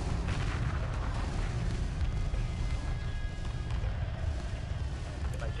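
Fleet weapons fire during a space battle in Homeworld, a dense, continuous rumble of rapid impacts and blasts, steady and moderately quiet from start to end.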